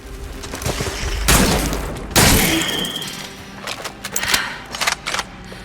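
Gunfire aimed at unstable icicles in the sci-fi game Scars Above: two heavy, booming blasts in close succession, followed by a looser spatter of lighter cracks and impacts, with no voices.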